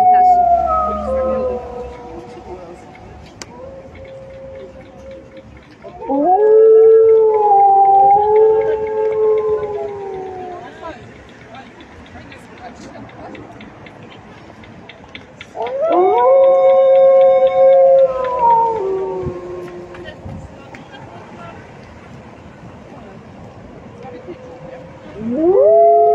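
A group of about 15 people imitate wolf howls in long, rising and wavering group choruses, repeated three times with quieter murmuring in between, in Bielsko-Biała, Poland.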